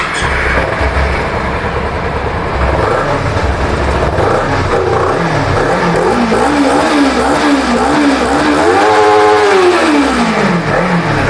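A used motorcycle with its stock exhaust revs up close by in a showroom, the engine note rising and falling in repeated swells over a steady running drone, loud and alone.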